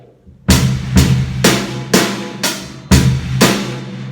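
Pop rock drum kit beat with kick drum, snare on beat four and a steady eighth-note hi-hat, played close and loud in an even repeating pattern with no talking.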